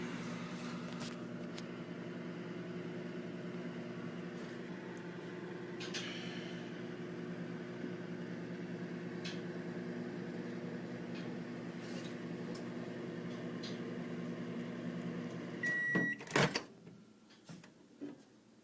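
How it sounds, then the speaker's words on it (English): A microwave oven runs with a steady low hum while softening ice cream for ice cream bread, then its door clicks and beeps near the end amid a few handling clatters. "just a couple seconds in the microwave there"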